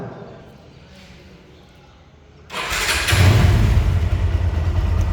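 A Bajaj Discover 135 motorcycle engine starts after a quiet moment and settles into a loud, close, steady running rumble.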